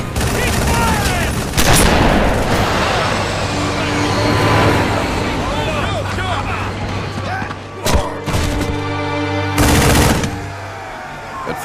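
Sustained heavy gunfire rattles through a Halo Wars video game cinematic, dense automatic bursts with sharp loud cracks near the end, mixed with vehicle engine rumble and battlefield noise.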